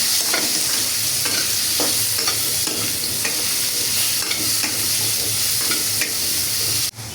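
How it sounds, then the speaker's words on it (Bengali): Potatoes seasoned with turmeric and salt fry in hot oil in a pan while being stirred, giving a steady close sizzle with repeated scraping strokes of the spatula throughout. "আলুটারে সুন্দর করে লাল লাল করে আলুটারে ভাজবো।"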